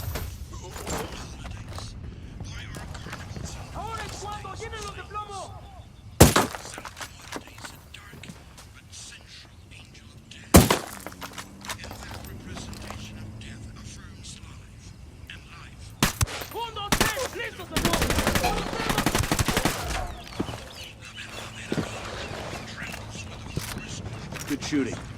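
Bursts of gunfire ring out in Ghost Recon Wildlands on PS5: a few sharp isolated shots, then a denser volley of rapid automatic fire, mixed with footsteps, ambient game noise and spoken dialogue.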